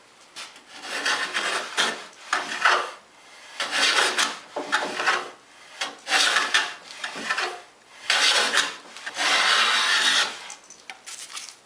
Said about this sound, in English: Once I get a continuous shaving from here to here on both pieces, I know that it's planed.